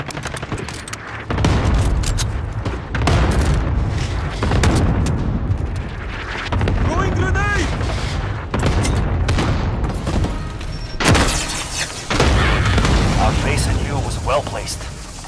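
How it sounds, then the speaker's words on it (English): Cluster strike in Call of Duty Modern Warfare: a dense, continuous barrage of booming blasts and crackling gunfire rolls loudly through the whole stretch, with in-game voices talking over the chaos. "Allied cluster strike incoming."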